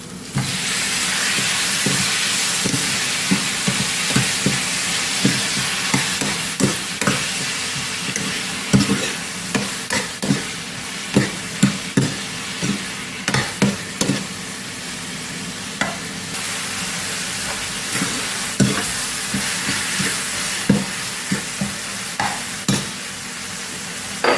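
Tomatoes and onions frying in a pan for Tamil paruppu kulambu, a steady loud sizzle with repeated sharp scrapes and knocks of a spoon stirring throughout.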